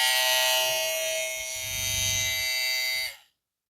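Steady electric buzz of an all-metal 8,000 RPM hair clipper running for about three seconds, with a low hum shifting midway, then switching off abruptly.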